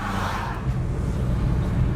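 An LPG-powered car's engine runs while driving, a steady low rumble heard from inside the cabin with road noise, moderately loud and continuous.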